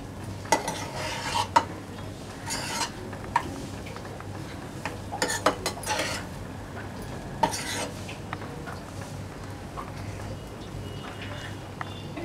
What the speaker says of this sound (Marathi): एकदा ढवळून घेऊया.